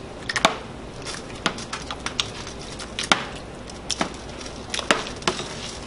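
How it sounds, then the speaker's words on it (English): Tomatoes being cut for salsa, with a quick irregular series of sharp chopping knocks against a board over a low background bed, near and fairly loud. "Now we're going to take this and we're going to kind of start cutting it into it."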